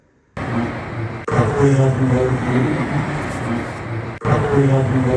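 A ram air turbine deployed on the Air India 171 aircraft whirs with a steady, propeller-like droning tone and a layered engine hum, sustained and fairly loud, with brief cuts where the recording jumps.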